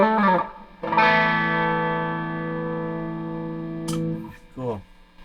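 A Les Paul Special Double Cut electric guitar on its bridge pickup rings out with a bright, sustained chord that decays slowly after being struck, framed by a few short picked strums and scratchy string noise at the start and end.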